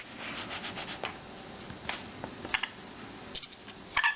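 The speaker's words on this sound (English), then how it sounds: "And with my sanding block, smooth out the edges." Quiet, irregular rubbing and scraping strokes of a sanding block worked along the wood edges of dollhouse furniture, with small knocks between passes.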